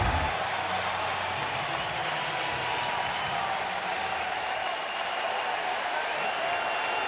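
Broad steady crowd noise from LSU fans at a College World Series baseball game, a continuous wash of applause and cheering supporting a batter, even in level throughout.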